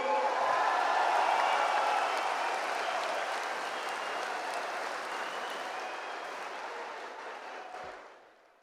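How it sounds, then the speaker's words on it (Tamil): A packed political conference hall of the TVK party erupts in dense, sustained applause from a large crowd, steady for several seconds before tapering off at the end. "ஒரு அரங்க நிறைந்த கைத்தட்டல்களை நாம் தந்தாக"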